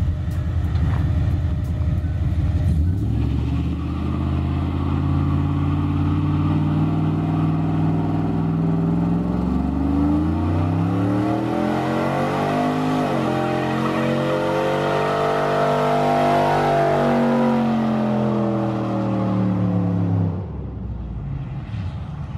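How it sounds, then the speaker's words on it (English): A car with traction bars does a loud burnout, its engine revving and climbing in pitch for most of the run with tyres spinning, then easing off near the end; no talking. "Scientific burnouts."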